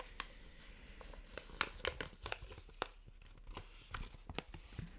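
A small piece of paper handled up close in a quiet room, with soft crinkles, light tearing rustles and scattered crisp ticks spread across a few seconds.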